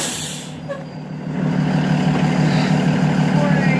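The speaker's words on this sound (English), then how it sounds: "our bus is just pulling in" A bus pulls in with a sharp hiss of air brakes at the start, then its engine settles into a loud, steady, low idling rumble close by.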